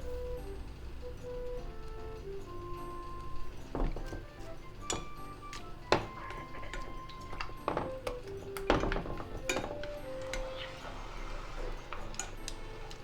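Shiitake mushrooms and their soaking juice go into a small pot set over medium heat, bringing scattered light clinks and knocks of utensils against metal and glass, close and fairly quiet, with no talking.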